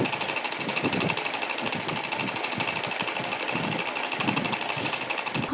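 Close and steady, a sewing machine stitches lining and strips on a small doll dress, its rapid needle chatter pulsing in an even rhythm throughout.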